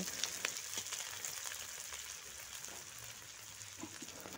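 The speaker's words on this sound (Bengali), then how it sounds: "পেঁয়াজ আর কাঁচা লঙ্কাকে একটু লাল করে কিন্তু ভেজে নেব।" Chopped onions and green chillies fry in mustard oil, giving a soft, continuous sizzle with faint crackles and occasional light stirring clicks, close by but quiet.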